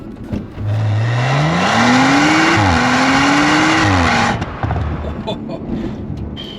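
A tuned 530 hp ABT Audi RS5 engine revs hard as it accelerates past 5000 rpm, its pitch climbing steadily and dipping briefly at a gear change before the roar cuts off.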